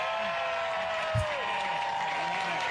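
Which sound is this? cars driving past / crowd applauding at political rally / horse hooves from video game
crowd applauding at political rally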